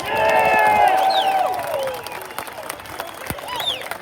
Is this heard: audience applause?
yes